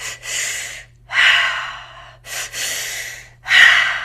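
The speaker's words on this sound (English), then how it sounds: "if you're really tired and you need a cup of coffee, mouth breathing, right?" Deliberate mouth breathing done as an energizing exercise: four sharp, forceful breaths, each a loud airy rush that fades out, separated by brief pauses, close and alone with no talking.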